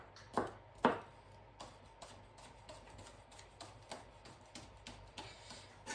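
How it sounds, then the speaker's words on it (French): Knife finely slicing spring onions on a chopping board, two sharp loud chops followed by a quick, even run of lighter close taps. "Donc, il nous faudra 3 oignons nouveaux. Je vais couper ici les petites racines. Et je vais couper, émincer finement."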